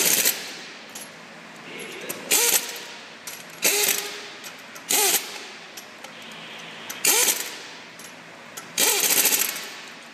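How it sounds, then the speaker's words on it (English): An air impact gun tightens wheel studs one at a time in a star pattern, firing about five short, loud, rattling bursts separated by quieter shop background. "the studs need to be tightened. To do this, you'll need the air gun and the torque stick."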